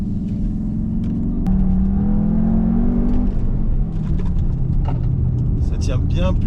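Cupra Formentor 310 SUV on a circuit near Pas de la Case, Andorra, its engine droning and rising in pitch under acceleration inside the cabin, with a steady loud road roar throughout.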